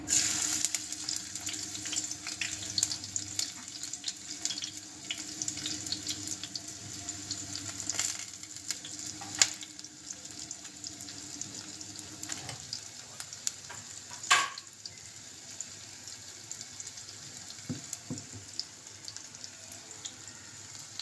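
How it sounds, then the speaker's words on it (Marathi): Finely chopped onion sizzles in hot oil for tempering in a clam curry, a soft, steady crackling fry with occasional light clinks and stirring scrapes. "तेल तापल्यावर आपण टाकायचं आहे कांदा बारीक चिरलेला फोडणीला"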